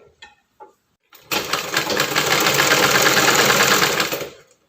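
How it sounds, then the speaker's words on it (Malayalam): A sewing machine stitching a churidar hem, starting after a couple of soft handling knocks and then running loud and steady in a fast rapid whir up close for several seconds before stopping. "എന്നിട്ട് ഇങ്ങനെ തയ്ച്ചു പോരുക."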